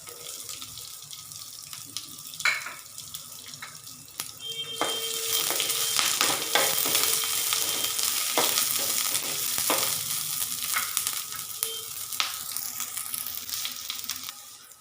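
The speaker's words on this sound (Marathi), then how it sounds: "मस्त भाजली बघा मिरची।" Green chilies and garlic roasting in a pan for a spicy Maharashtrian chili thecha: a steady, close sizzle swells and holds, with occasional stirring clatter and no talk.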